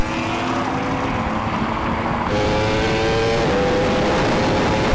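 A Yamaha R1M superbike, a Porsche Taycan Turbo GT and a Ferrari SF90 run a rolling drag race from 50 mph, making a loud, continuous roar of engine and wind that swells slightly near the end, with no voices.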